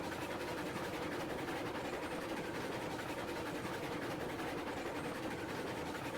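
A slow-running steam-era locomotive engine in the Railroads Online video game gives a steady, continuous low rumble and mechanical chug, held at an even level throughout with no voices.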